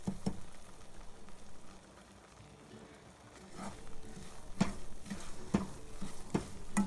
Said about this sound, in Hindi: थोड़ी देर बटर में जो भी ऑयल डाला है और थोड़ी देर के लिए भूनेंगे।